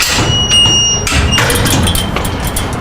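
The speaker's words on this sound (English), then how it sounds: "I slam that door." A yard gate door slams shut with a solid thud, followed by a few lighter knocks and rattles close by, with wind noise in the background.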